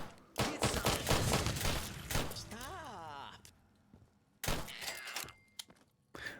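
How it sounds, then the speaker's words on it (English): Gunfire in the Fallout: Nuclear Sunset game: loud bursts of shots and impacts alternate with stretches of talk, with a sharp burst near the end. "Might as well start shooting, huh?"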